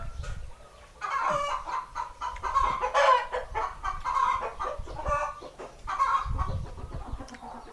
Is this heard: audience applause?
no